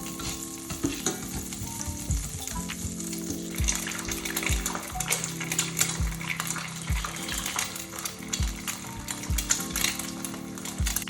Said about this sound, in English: quickly fry our egg in some butter